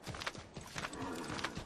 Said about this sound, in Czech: Jedu na koně